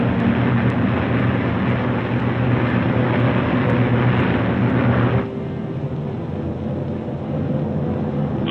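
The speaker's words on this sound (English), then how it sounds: "The Mustangs climb in formation to take positions above the boxes of B-29s." P-51 Mustang fighter planes climbing in formation during a 1945 Army Air Forces bombing mission, a loud steady engine drone that drops abruptly to a quieter, thinner hum partway through.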